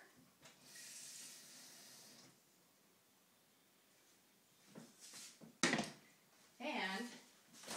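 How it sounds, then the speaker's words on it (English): Water runs from a kitchen tap into a sink while making grape jelly, with a steady hiss for a second or two, followed later by short splashes and bursts of running water. "I'm going to add some water."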